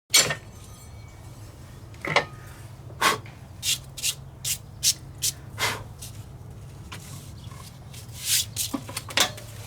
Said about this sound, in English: Now you can use this time to clean out any crap and schmutz that's in here.